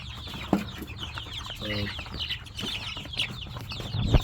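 Chicks gather around a plastic chicken feeder, their high chirps and peeps overlapping steadily nearby, with scattered soft taps and a faint background hum and no voices.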